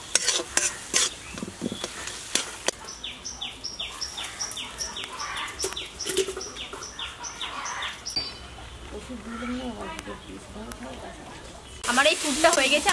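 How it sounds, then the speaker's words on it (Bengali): A spoon stirs potol dorma stuffing with cumin powder in a pan over low heat, steady scraping with a soft sizzle underneath, birds chirping faintly in the background and a louder clatter at the very end. "এবার এটাকে হালকা জ্বালে এবার আমি নাড়াচাড়া করবো কিছুক্ষণ,"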